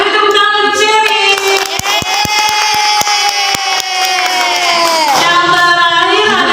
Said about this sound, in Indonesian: Beri tepuk tangan untuk Sherry.